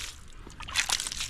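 Water poured over a gemstone beside a river, giving a brief, soft slosh and splash with light trickling, close and fairly quiet, no talk over it.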